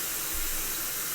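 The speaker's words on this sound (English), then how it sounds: "while we're letting the sink fill up" Cold water runs from a bathroom tap into a filling sink, a steady close, even rush of flowing water with no voices.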